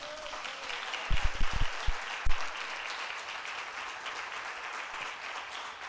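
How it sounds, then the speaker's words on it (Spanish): A church congregation applauds as an offering of praise during a Spanish-language sermon, a steady wash of clapping running throughout, with a few louder low thumps near the microphone early on. "¿Por qué no damos una ofrenda de palmas?"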